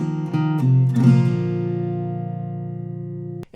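Acoustic guitar intro lick: a plucked note and quick pull-offs and a hammer-on, resolving into a ringing strum of the 5th and 4th strings that sustains and slowly decays before a short closing thump.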